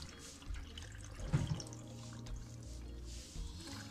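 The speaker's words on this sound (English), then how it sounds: "And I'm gonna pour some water." Water poured into a blender with pineapple, cucumber, ginger and lemon for juice, a faint, brief splash and trickle over quiet room background, with no voices.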